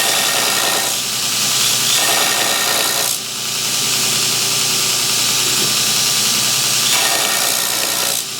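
A power grinder works a knife blade during material reduction, a loud, harsh continuous grinding that briefly lets up several times as the blade is lifted off and then pressed back on.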